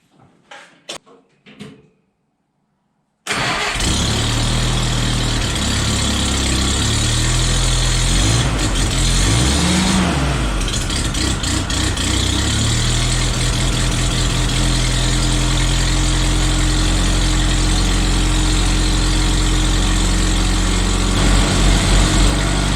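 After a few faint clicks and a pause, an engine cranks and catches, then settles into a loud, steady high idle that keeps running throughout, with occasional knocks and shifts in the drone.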